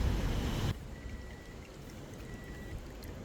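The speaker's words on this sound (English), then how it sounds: "So this is draining now." Water pours and trickles steadily out of a car's roof drain hose after debris is cleared, a louder gush at first settling into a continuous soft stream.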